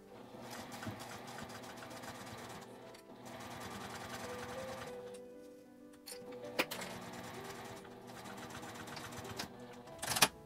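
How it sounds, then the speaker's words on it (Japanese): A sewing machine stitches a seam on a handmade zippered accordion coin purse, a steady rapid mechanical whir with brief pauses and a few clicks, fairly faint and with no talk. "縫い目の下を縫います。"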